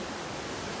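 Elabana Falls waterfall pours steadily as a broad, continuous rush, close and fairly loud, with no talk over it.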